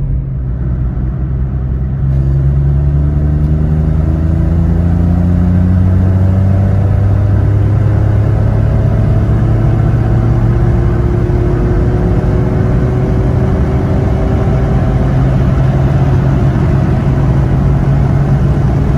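A CityBug car fitted with a decat manifold pulls hard through third gear, its loud engine note rising steadily in pitch for the whole run, close and continuous with no talking.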